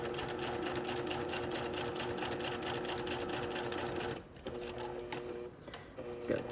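A sewing machine stitches a flap onto a shirt front at a steady fast rhythm, pauses briefly to reverse, then runs on in shorter back-stitch bursts; quiet and close.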